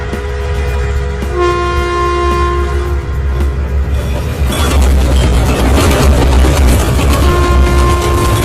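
Train sound effect with a train horn: sustained horn tones over a rumbling, clattering train, loud and close, the rolling noise growing rougher midway as the horn sounds again near the end.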